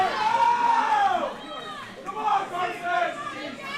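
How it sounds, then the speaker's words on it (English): A crowd cheers on a deadlift attempt at a collegiate powerlifting championship in Georgia, with close, loud shouting and hyped voices yelling almost nonstop in rising and falling waves. "The crowd is loving it."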